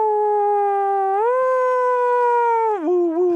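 A voice imitates a US police car siren from New Jersey and New York as a single sustained, loud wail that slides up, holds, then dips near the end, heard alone.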